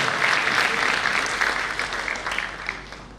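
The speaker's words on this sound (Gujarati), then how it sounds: "જોરદાર તાળીઓથી વધાવો" An audience at a school music and cultural program breaks into loud, dense applause that carries on steadily and fades slightly toward the end.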